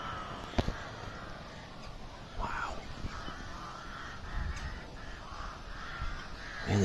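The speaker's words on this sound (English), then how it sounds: "Rooks and crows." Rooks and crows cawing outdoors at Denver Sluice, with scattered harsh calls near and far over a steady background rumble and a brief spoken exclamation.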